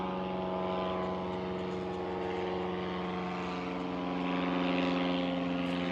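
A propeller airplane drones overhead in a steady, even hum with sustained engine tones, swelling slightly louder toward the end as it passes, heard alone without voices.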